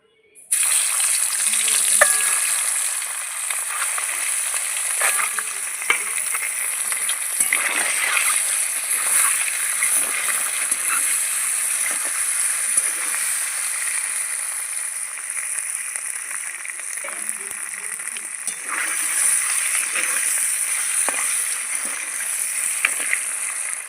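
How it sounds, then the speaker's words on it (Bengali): Steady hiss and crackle of duck eggs frying in hot oil in a wok, continuous and close, with occasional stirring sounds and no talking. "ডিমগুলো এখন আমি ভেজে নেবো"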